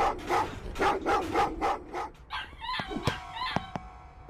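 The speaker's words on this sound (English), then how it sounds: "Why are dogs barking at me?" Dogs bark in a Vietnamese horror video game, a run of about five loud, evenly spaced barks followed by sharper scattered yelps and clicks against a quieter background.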